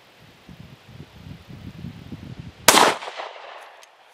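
A single loud, sharp CZ P-10 C pistol shot cracks out at 75 yards at an outdoor range, its echo trailing briefly, after a stretch of low wind and rustling.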